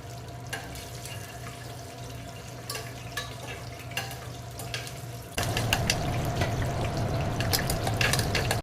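Whole spices frying in oil in a pan for coconut milk rice, a steady close sizzle with occasional stirring scrapes that grows louder and busier partway through, no talking.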